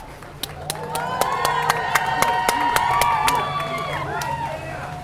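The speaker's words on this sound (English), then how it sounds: "I want you to clap your hands and give yourselves a standing ovation" At a health freedom rally outside San Francisco City Hall, a crowd claps and cheers in a standing ovation, with scattered sharp claps over a sustained wash of whoops and excited voices.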